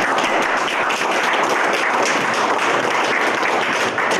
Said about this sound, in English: So I'm going to applaud you.